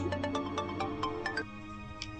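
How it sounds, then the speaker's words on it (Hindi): A mobile phone ringing indoors in a Pakistani TV drama scene, a bright repeating melodic ringtone of quick tones that plays clearly for about a second and a half, then trails off into quieter room sound. "ये तो आप ही का फोन है"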